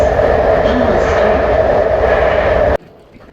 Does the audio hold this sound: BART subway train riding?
yes